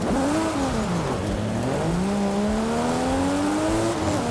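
A turbocharged car in Forza Horizon 5 drives through a snowy blizzard, its engine droning steadily with rising and falling revs and a tonal whine, loud and continuous with no talking.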